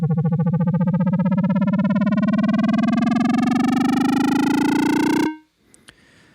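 A synth riser on a mega macro swells for about five seconds, a buzzy, distorted tone with a rapid warble. Its pitch climbs steadily and it stays loud before cutting off, followed by a few faint clicks.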